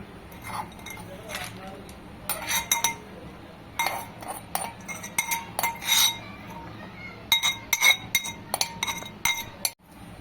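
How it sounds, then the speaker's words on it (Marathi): Green chili thecha scraped from a vessel into a serving dish: irregular clinks and scrapes of a metal spoon on metal and glass, close and fairly bright, over a low background hum. "तर आता एका डिशमध्ये काढून घेते"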